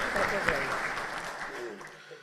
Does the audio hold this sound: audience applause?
yes